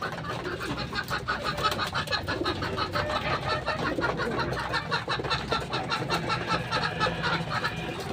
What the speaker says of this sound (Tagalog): Ayun no, kinakain ng itim yung buhangin.